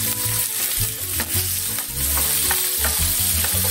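Shrimp and onion fry loudly in a pan with a constant close sizzle, broken by repeated scraping and clattering as a utensil stirs them.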